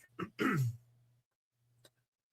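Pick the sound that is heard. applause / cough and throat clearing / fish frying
cough and throat clearing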